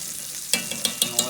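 A spoon stirs chicken bouillon into about 24 ounces of boiling water for soup, giving four or five short clinking, sloshing strokes close by after a quiet simmering start, with no talking.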